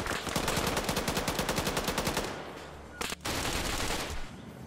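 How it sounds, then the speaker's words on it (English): Rapid bursts of machine gun fire in a tactical military shooter game, a dense rattling stream for about two seconds, then a sharp single crack and a lingering roar of ambient battle noise. "Several people just got laid into by machine gun."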